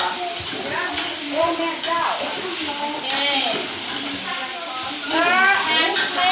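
Vegetables sizzle and hiss in a hot pan as a spatula stirs and flips them, giving scraping strokes over a steady frying bed. A person speaks briefly over the cooking.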